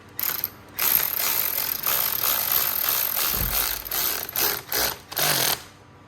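A number 5 Allen key tightening the shift lever bolt on a DRZ400SM motorcycle, with close rapid clicking ratchet-like bursts in short uneven runs and brief gaps between turns.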